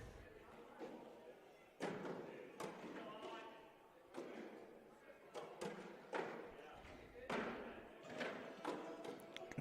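Cornhole bags thud onto wooden boards at an outdoor charity cornhole tournament, several dull impacts spaced irregularly amid crowd chatter and people talking nearby.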